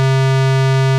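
Square wave from a Doepfer A-110-6 trapezoid thru-zero quadrature VCO, a steady, loud, bright buzzy synth tone held at one pitch with strong overtones, alone.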